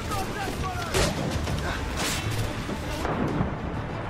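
Heavy ship cannon fire rumbles through a naval battle in Assassin's Creed IV Black Flag, with dense booming blasts and explosive noise rolling continuously, punctuated by a sharper impact near the one-second mark.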